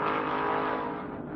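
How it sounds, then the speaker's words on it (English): A white Porsche race car, number 0, roars steadily through a corner at a racetrack in 1972, its engine a loud, sustained drone that fades slightly as it passes, with no voices. "There he comes, Leo Gagan, car number 0, as he comes through Toyota Corner"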